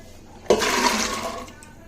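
Water is poured over soaked white chickpeas to rinse them, a sudden close splashing gush that lasts about a second and then tapers off.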